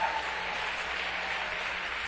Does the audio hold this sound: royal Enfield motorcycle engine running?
no